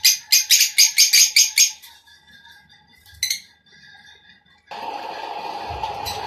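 Pet lovebirds give a quick burst of sharp repeated chirps, then a short pause broken by a lone call. A steadier bright chatter of calls follows, close by, with no talking.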